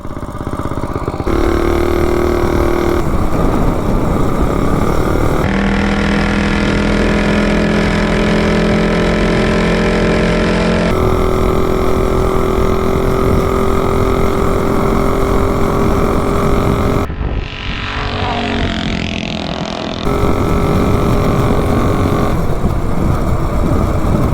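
A Coleman CT200U-EX mini bike with an $80 replacement engine and a bigger cam runs steadily for the whole stretch, a loud continuous motor drone with shifts in pitch as the revs rise and fall.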